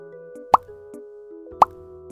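Two bright ding chimes, each short and ringing with a quick attack and brief decay, spaced about a second apart over a faint sustained tone.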